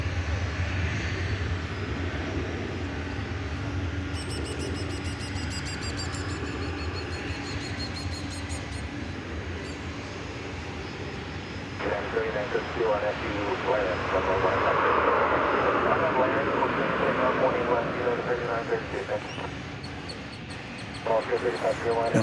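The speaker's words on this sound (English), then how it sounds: "And we also have another MD-11 tri-jet backing out now from UPS regional headquarters." Jet engines of an MD-11 tri-jet and other aircraft rumble steadily at DFW airport, a broad continuous roar that swells louder midway, with faint background chatter.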